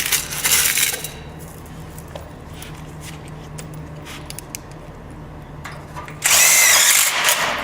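A power drill drives self-tapping screws into metal studs and tracks, whirring in short bursts with a louder final burst at the end.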